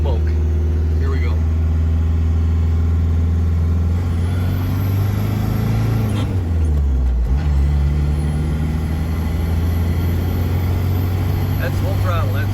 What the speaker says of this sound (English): That's full throttle, that's it. Revving it, everything else.